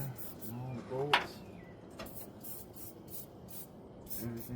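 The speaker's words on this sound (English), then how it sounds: "Just a little spray on there." A spray lubricant hisses in several short bursts onto the bolts of a 1980 Ford F-100 truck, fairly faint and close, with a brief voice and a few clicks mixed in.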